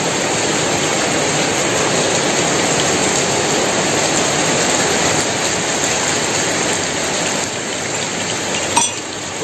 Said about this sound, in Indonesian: Hujan langsung meredah